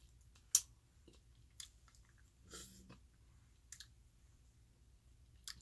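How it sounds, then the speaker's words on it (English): Someone eats spicy seafood boil up close, making soft wet chewing, faint smacks and a few sharp clicks against a quiet background, with no speech. "I need to stop slurping this stuff."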